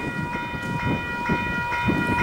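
A train rolls through the newly upgraded Linden level crossing on Collins Ave, a close, steady rumble of wheels with rhythmic clacks under the crossing bells' sustained ringing tones.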